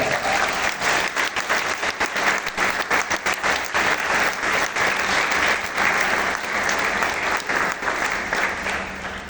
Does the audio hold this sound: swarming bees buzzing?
no